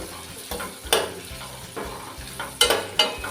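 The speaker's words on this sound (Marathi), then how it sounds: "ह्यामध्ये मी घालते थोडासा कढीपत्ता तो सुद्धा परतवून घेऊया" Curry leaves and onion frying in hot oil with garam masala for a traditional Vadval-style bottle gourd and peanut amti, a close steady sizzle broken by occasional sharp stirring clinks.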